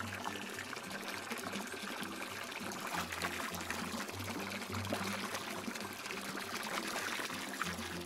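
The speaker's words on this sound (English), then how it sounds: "I'm gonna start by rinsing your hair." Water pours to rinse hair in a bathtub, a quiet, continuous trickling stream under a low background hum.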